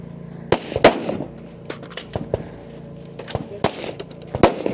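Rifle shots ring out at a biathlon-style firing line during a women's elite stage of a Nevada regional shooting competition, a series of sharp, loud cracks at irregular intervals from several competitors, some close and some farther off.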